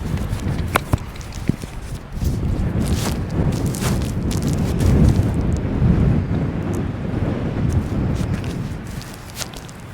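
Cold wind blowing along the Oregon coast by the Samuel H. Boardman scenic highway, rumbling and buffeting against the microphone in gusts, with a few sharp knocks early on and a faint surf-like wash underneath.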